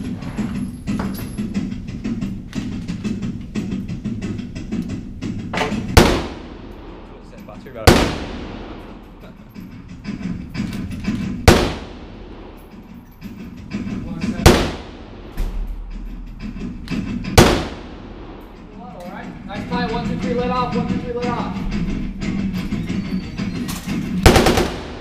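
Rifles firing at an outdoor shooting range, about seven loud single shots spaced several seconds apart, each with a sharp crack and trailing echo, while people talk quietly throughout.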